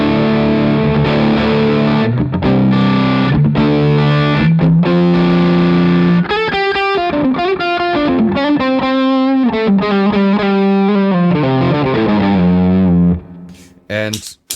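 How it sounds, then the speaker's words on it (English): An electric guitar runs through a warm Catalinbread Epoch Bias EP-style boost into a Dane MK2 overdrive pedal, loud and gritty, strumming chords then picking ringing melodic notes before a sudden stop. "the Epoch bias by Catalinbread, is a EP style boost, which is rather warm. Let's hear it into the Dane."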